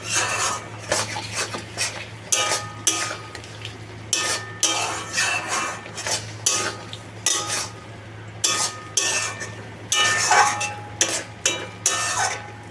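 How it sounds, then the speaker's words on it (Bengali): Mango chicken stirred in a pan with a metal spatula, a close, regular series of scraping and clinking strokes in a steady rhythm over a faint sizzle, with no talking. "তো আবার একটু নাড়াচাড়া করে নিচ্ছি"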